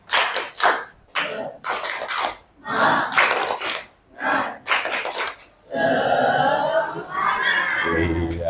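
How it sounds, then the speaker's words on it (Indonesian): A classroom of students does a rhythmic spirit clap, with sharp bursts of group clapping and loud chanted voices that run into a dense, sustained stretch of claps and shouting near the end. "Tepuk semangat."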